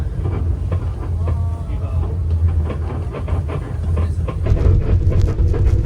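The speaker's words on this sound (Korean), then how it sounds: "갈대열차가 갈대 옆을 지나갑니다." Reed tourist train rolling past reed beds at a national garden, a steady low rumble with rhythmic clatter and hiss, continuous and fairly close.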